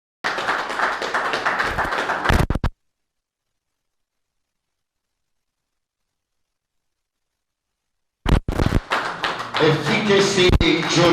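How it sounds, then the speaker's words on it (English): Workshop audience clapping for an arriving guest at a journalism event: a burst of hand claps cuts off abruptly, a long stretch of silence follows, then clapping resumes with a few thuds and voices mixed in. "Please keep clapping for him until he comes here."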